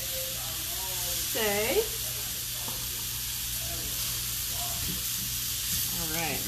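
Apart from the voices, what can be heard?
peppers and onions sizzling in a pan for skirt steak fajitas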